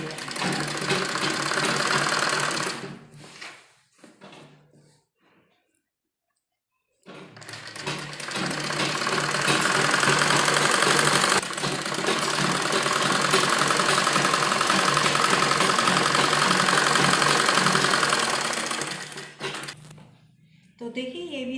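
A sewing machine stitches the lining fabric of a palazzo, running in long steady whirring bursts broken by a pause of a couple of seconds, loud and close, with someone speaking in places.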